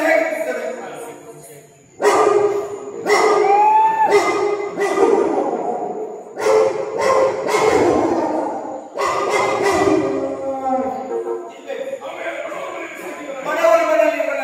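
A man imitates a dog's howl with his voice, drawn-out wavering cries alternating with barking and yipping sounds, loud and close in a series of bursts.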